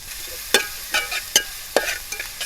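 Onions fry in a pan for a restaurant-style pepper chicken, a steady soft sizzle broken by several sharp scrapes of a spoon stirring them, close up and alone.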